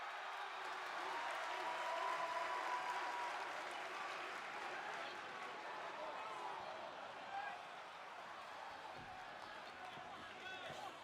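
Crowd noise in a WWE 2K26 wrestling video game, an Edge versus Bron Breakker championship match, with a steady arena roar and applause throughout the clip under ongoing commentary talk.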